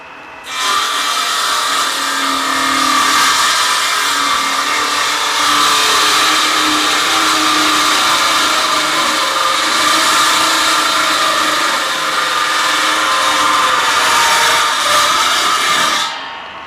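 A table saw cuts wood for a small box in a woodworking shop, a loud, steady whining buzz that holds for about fifteen seconds with no one speaking, then drops away at the end.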